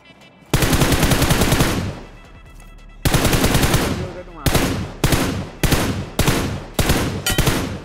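Rapid automatic gunfire in a mobile shooter game knocks down an enemy, with a long sustained burst, a pause, then several shorter sharp bursts, all loud and close.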